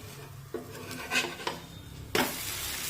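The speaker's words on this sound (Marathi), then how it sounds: "आणि आता दोन ते तीन मिनिटे झालेले आहेत हे थालीपीठ आपण पलटून घेऊया अलगत पलटायचंय" A spatula scrapes and clatters against a pan while a potato thalipeeth is flipped, with a few metallic knocks followed by a sudden bright burst of sizzling near the end.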